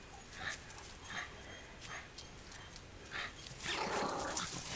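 A small dog, apparently a Jack Russell terrier, gives a few brief whimpers and yips during outdoor play with other dogs, spaced through the clip and fairly faint, building into a louder rustling burst near the end.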